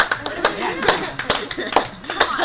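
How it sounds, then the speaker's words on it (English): A small group claps unevenly, a few scattered hand claps ringing out close by while people talk over them. "Just give him a round of applause."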